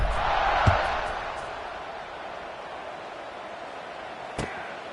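Stadium crowd noise from a College Football 26 game, a steady broad roar filling the background at kickoff with a couple of brief sharp thuds standing out, no speech over it.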